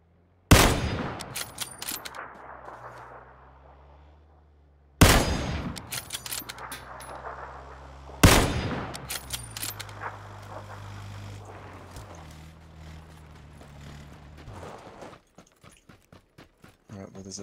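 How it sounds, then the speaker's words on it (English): Gunfire in a multiplayer video game, three loud sharp shot bursts spaced a few seconds apart, each trailing off into echo, then a run of quieter rapid shots near the end, with talking throughout. "Oh, somebody's shooting me."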